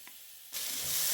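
Grated onion tipped into a hot pan with about two tablespoons of vegetable oil bursts into a loud sizzling hiss after a quiet start, the frying continuing and building steadily to the end.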